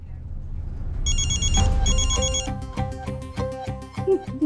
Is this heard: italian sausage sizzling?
no